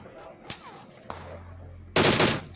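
Gunfire from a DP machine gun in a battle royale video game: two single sharp shots about half a second apart, then a loud, dense automatic burst lasting about half a second, with no talk.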